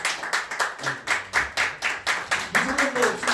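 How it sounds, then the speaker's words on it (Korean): An audience claps in a quick, even rhythm at a certificate award ceremony after a special lecture, each clap crisp and close; a voice briefly joins near the end. "박수"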